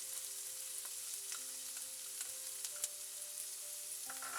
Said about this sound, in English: Oil is hot now, so we have added onion and capsicum in this